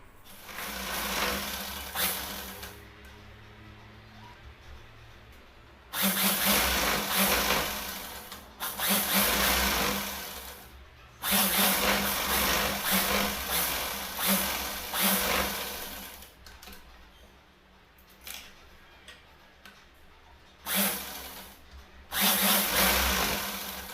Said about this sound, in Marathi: इथे पण मी एक दाब शिलाई करून घेणार आणि त्यानंतर इकडून आणि इकडून शिलाई करणार आहे